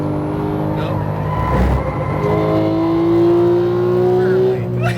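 A GT3 race car engine at Las Vegas holding a loud, steady high-pitched drone with rising revs, heard from inside the car, with a voice briefly talking over it.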